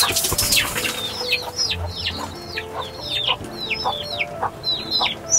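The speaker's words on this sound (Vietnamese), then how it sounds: "mấy con gà của bác đòi ăn đấy" A flock of backyard chickens clucks repeatedly while waiting to be fed, a string of nearby rising calls over a busy farmyard background.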